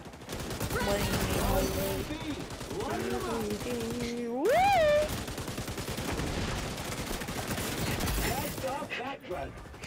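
Rapid light-machine-gun fire in the online shooter XDefiant rattles in dense bursts through most of the stretch, mixed with game effects and a rising tonal sweep midway, with people talking over the shooting.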